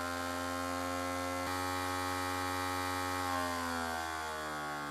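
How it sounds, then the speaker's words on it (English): A PowerBook G3's optical drive spins loudly with a steady whining hum, its tone slowly shifting as the disc speed changes, with no talking. "The loudest drive I heard in a long, long time."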